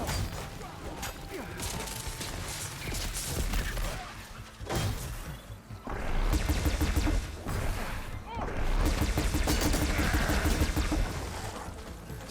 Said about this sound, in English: The Ravager cannon. Might be a good time to use it.